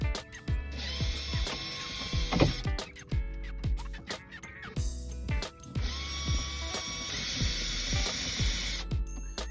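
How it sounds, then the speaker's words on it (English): A power drill or driver working screws into a crawl space wall, whirring in short bursts with ratcheting clicks and pauses between runs, fairly close and steady, no talk. "there is Emily attempting to screw things into the wall."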